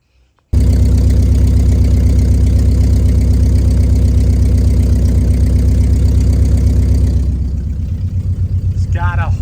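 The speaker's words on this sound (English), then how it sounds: "for whatever reason, it's not firing on 4 cylinders" A car engine starts and idles roughly close by, misfiring and not running on all cylinders after new spark plugs, a loud uneven thrumming that settles slightly lower near the end.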